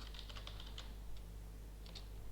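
A computer keyboard is typed on while entering a command at a desktop command prompt. A quick burst of close keystrokes is followed by a pause and then a couple more key taps, over a low hum.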